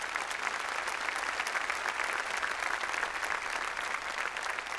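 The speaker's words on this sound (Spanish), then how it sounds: "Dale un aplauso al Señor." A church congregation at a Sunday service claps steadily together, a dense, even patter of applause sustained throughout at moderate loudness.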